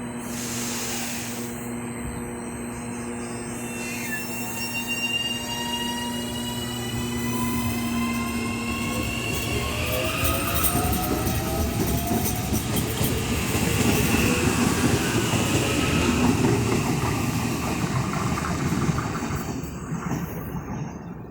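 Onboard an Auckland AM class electric multiple unit, AM 565, heading out to Sunnyvale: a steady close rumble with rising and falling motor whine tones and a sharp wheel squeal, with no voices.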